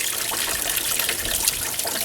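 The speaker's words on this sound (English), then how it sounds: "I'm directing a strong spray of water right through the pump" Strong water spray forced through the water pump of a Ford 3000 tractor to backflush rust scale, a steady, close, broadband hiss and splash running unbroken throughout.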